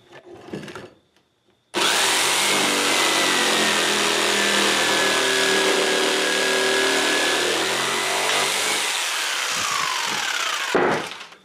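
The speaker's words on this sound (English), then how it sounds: "We'll finish this up with the jigsaw." A jigsaw cuts through wood for a garage shelf, starting abruptly and running as a loud, steady buzzing rasp for about nine seconds before stopping, with a few knocks of handling before and after.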